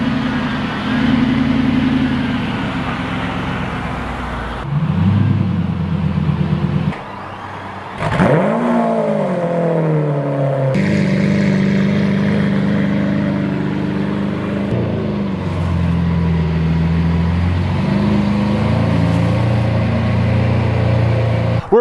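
A car engine cold-starts and idles roughly, then revs up and down repeatedly, loud and close, with sharp bursts of acceleration and a brief drop in the middle.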